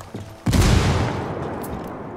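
A frag grenade detonates in Ghost Recon Wildlands: a single heavy boom bursts out after a short pause, then rumbles and slowly fades.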